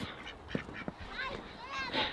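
Ducks on a farm creek quack in short, scattered bursts in cold weather, a few calls close by, with people talking over and between them.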